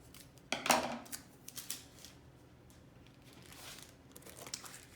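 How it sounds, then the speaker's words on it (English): Scissors trim a small piece of tape with one crisp, close snip near the start, followed by quieter rustling and handling of the tape in an otherwise quiet room. "I'm actually gonna just take scissors and trim him just like that"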